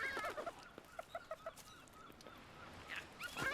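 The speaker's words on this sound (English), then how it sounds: "You actually have chickens inside the coop." Chickens in a coop in the video game ARK Survival Ascended, a few short soft clucks in quick succession, quiet and close against faint background sound.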